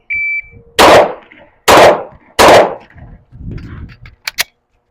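Three sharp pistol shots from a Glock 19X fitted with a red dot sight crack out close and loud, evenly spaced about a second apart, with a short electronic beep just before and small clicks just after.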